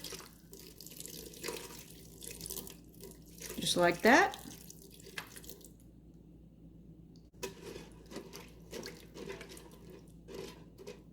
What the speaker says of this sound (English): I'll go in with some water just to cover that pasta.